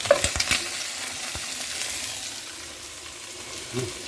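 Shrimp fry in a pan with a soft, steady sizzle, a few clicks and stirring scrapes near the start and a brief clatter toward the end, close and fairly quiet.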